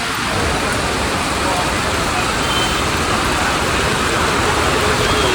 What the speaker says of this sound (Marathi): नाशिक मध्ये मोठा पाऊस आलाय